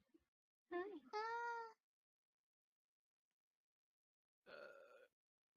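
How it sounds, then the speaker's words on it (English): A cat meows twice up close indoors, first a long drawn-out two-part meow and then a shorter one a few seconds later, with silence between the calls. "I have a kitty."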